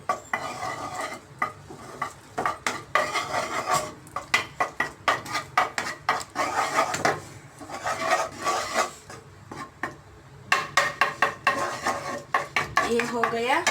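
A spoon whisks curd in a bowl for Hyderabadi vegetable biryani, making rapid, rhythmic scraping and clinking against the bowl in close, continuous bursts with short pauses. No speech is heard.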